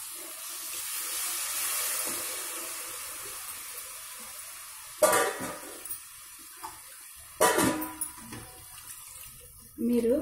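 Water from a glass pours in a continuous stream into a mutton curry in a pressure cooker, fading out, followed by a few clanks and stirring noises.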